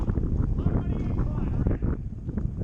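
Wind gusting around a boat tied up at a dock, a steady rough rumble with buffeting on the microphone, near and fairly loud throughout.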